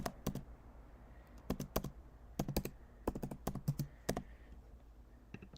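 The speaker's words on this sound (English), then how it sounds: "Not gonna lie, I like a good typing sound" Crisp, close clicks of a computer keyboard being typed on, coming in short irregular bursts with small pauses, fairly quiet and with no voices.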